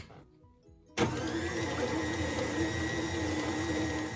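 An electric mixer switches on after a quiet moment and runs with a steady, loud whirring drone, blending egg, peanut butter, sweetened condensed milk and vanilla for cookie dough.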